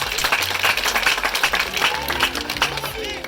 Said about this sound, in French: On applaudit encore très fort.